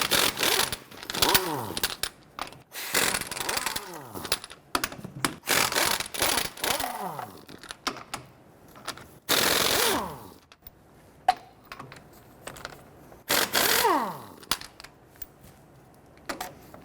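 A 21mm socket works the lug nuts loose and off a Nissan Frontier rear wheel in bursts of rapid, buzzing impact-wrench rattling, separated by short quiet gaps and small clinks.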